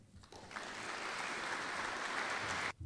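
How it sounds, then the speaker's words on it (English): An audience claps after a speech at a chemistry department event: dense, steady applause builds quickly and holds at an even level for a couple of seconds before cutting off. "So I join everyone else in applauding your efforts today"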